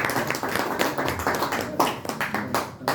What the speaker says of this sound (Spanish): Les ruego a ustedes dar un buen aplauso a este distinguido caballero.